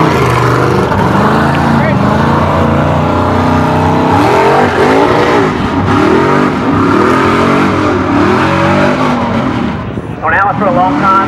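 The Son Of A Driller truck roars through its run at an RYC event, a loud, continuous engine drone rising and falling as it revs, with crowd noise and voices mixed underneath.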